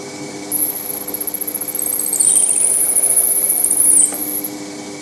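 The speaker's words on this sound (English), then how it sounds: "Now I've got a 5 millimetre brad point bit in the drill, and I'm going to use this to go down most of the way." A drill press bores into wood with a 5 mm brad point bit, a loud high whine rising as the spindle spins up, holding steady for several seconds, then dropping away near the end.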